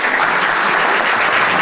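Loud, dense applause from an audience at a 75th anniversary event for Argentina–Israel relations, honoring the ambassador of Armenia, with even clapping throughout and no speech.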